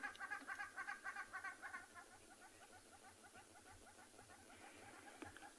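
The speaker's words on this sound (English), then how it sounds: "we can hear some hornbills calling over to the left" Hornbills calling from one side of a dam at sunrise, a run of repeated, fairly distant honking calls in the first two seconds, followed by fainter scattered calls over a quiet outdoor background.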